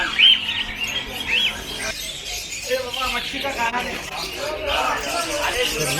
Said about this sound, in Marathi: सुंदर सुंदर पक्षी आहेत तिकडे